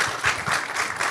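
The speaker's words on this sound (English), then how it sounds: "So let's give them an applause." Audience applause at an anniversary event marking the fall of Kabul and a fellowship launch, a short burst of steady clapping from a gathered crowd at moderate loudness.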